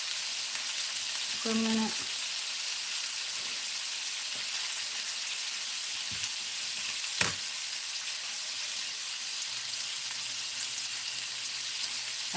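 Garlic cloves and chicken brown in a hot pan with a steady, even sizzle. A brief word or two is spoken and a single sharp tap rings out partway through.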